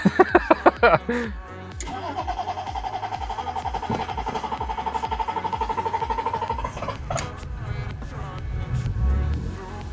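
A BMW E36 drift car with a newly fitted M50 intake manifold cranks in rapid pulses, fires, and runs at a steady rhythmic idle close by, with strong wind noise buffeting in the background.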